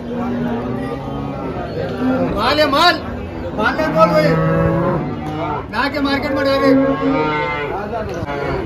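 Gir cows at a crowded cattle market in Dhule low and moo repeatedly, their calls rising over a constant background of market chatter and someone talking.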